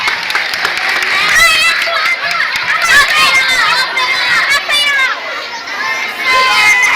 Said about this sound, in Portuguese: Aplausos, Maria Felipa de Oliveira.